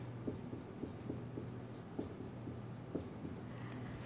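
Writing on a board during a beginner maths lesson: faint, close strokes and taps arrive in an uneven rhythm over a soft steady hum, with no talking.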